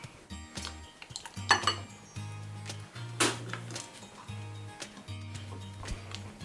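Caramelised condensed milk toffee for a banoffee pie is scooped into a bowl, with close metal spoon scrapes, clinks and knocks against cookware in an uneven rhythm.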